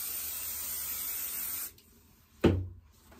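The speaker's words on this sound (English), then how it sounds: "I'm just giving it a good spray so I know it's going to stick." A sustained, loud hiss of aerosol spray adhesive on a lampshade lasting over a second, then a short quieter burst after a pause.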